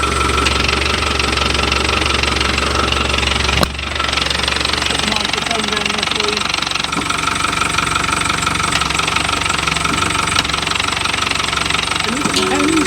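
Noisy clutch on an idling Land Rover Defender 110 overlander: loud, steady rattling diesel idle with knocking vibration, a brief dip and shift partway through, and someone talking over it.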